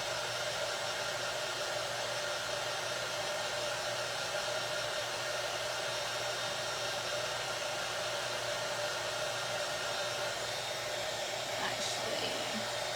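A heat tool blows hot air onto a wooden tray being upcycled, giving a steady, even whooshing drone that holds throughout without a break.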